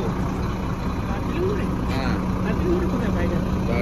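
Auto-rickshaw ride through Siliguri toward Darjeeling More, a steady close engine drone and road rumble running throughout with faint traffic noise around it.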